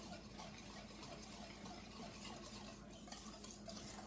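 A mixture being whisked in a bowl until it thickens, a steady soft scraping and swishing that runs continuously and evenly at close range with no talking.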